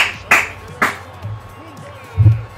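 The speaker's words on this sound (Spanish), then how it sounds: "¡Un aplauso!" Short bursts of cheering and clapping in a FIFA 18 football match, crowd noise following a goal by Lugo. Two sharp swells stand out over a steady crowd murmur, with game commentary in the background.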